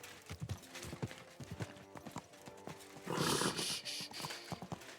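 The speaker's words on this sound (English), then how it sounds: "Easy, good horse." Horse hooves clip-clop at a steady walk in the medieval game Kingdom Come Deliverance II, a rhythmic run of moderately loud hoof falls, followed by a brief burst of breathy snorting near the end.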